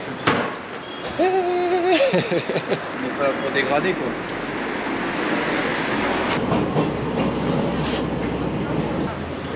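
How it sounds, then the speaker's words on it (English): A Paris underground metro train rumbles and clatters along the rails, with a rising and falling electric motor whine near the start and indistinct voices mixed into the steady, close ride noise. "We took the underground to go there because it was the easiest way, to be honest."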